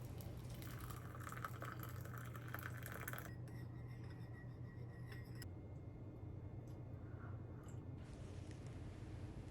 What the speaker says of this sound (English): since I have a sore throat today, I'm making hot yuzu honey water